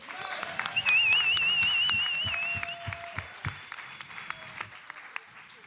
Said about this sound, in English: put a warm round of applause for our special guests, Rico O.B.F., Stef O.B.F.